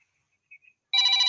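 A mobile phone rings indoors, starting abruptly after a moment of near silence with faint small sounds, then a loud, steady electronic ring tone of stacked bright tones holding to the end.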